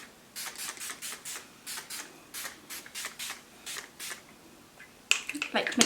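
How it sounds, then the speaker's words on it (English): Hair product sprayed all over the hair from a pump bottle in short repeated bursts, a quick irregular series of close hissing spritzes, followed by a louder rustle at the end. "So I just spray this all over."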